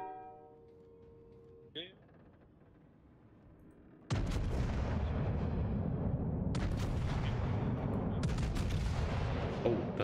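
Naval artillery fire in World of Warships: after a quiet stretch with a brief whistle, a sudden heavy cannon salvo erupts into a loud, sustained rumbling roar with further booming blasts layered on top.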